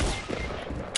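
Rapid gunfire in a video game, a dense burst of close shots filling the moment, ending in a sharper blast.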